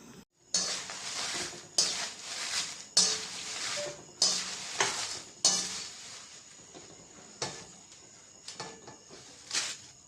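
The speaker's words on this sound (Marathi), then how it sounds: "आता छान पद्धतीने आपण त्याला एकसारखं हलवायचं आहे आणि भाजून घ्यायचं आहे" A spoon scrapes and knocks against a pan while bay leaves and spices are stirred and dry-roasted in a little oil, with repeated metallic clinks in an irregular rhythm over a soft sizzle, close up and with no speech.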